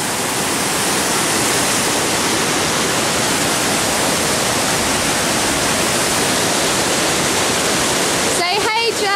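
Hot spring water pours in a steady, loud, broadband rush close by, continuous for the whole stretch, with a voice briefly breaking in at the very end.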